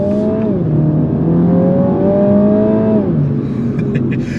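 A 2021 MINI Cooper John Cooper Works hatchback's engine pulls steadily on a road trip, its loud, close tone climbing through a gear, dipping at a shift, then rising again.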